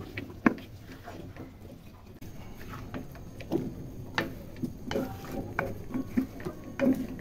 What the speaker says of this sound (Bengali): মশলাগুলোর সাথে মিষ্টি কুমড়া ভালোভাবে নেড়ে চেড়ে নিচ্ছি